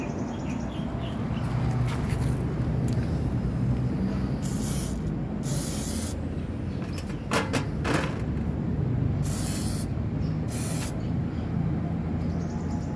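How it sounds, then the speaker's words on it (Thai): An aerosol can of WD-40 rust cleaner sprays onto rusty pruning shears in several short hissing bursts of varying length, close and loud over a constant background hum. "ลองฉีดล้างสนิม ที่กันไกลตัดกิ่งดู"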